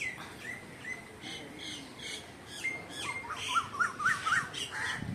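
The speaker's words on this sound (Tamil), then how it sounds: "குயில் வேற என்ன கூப்பிடுது." A koel calls outdoors in nature, its faint, repeated rising notes mixing with other birds' squawks and chirps against quiet background noise.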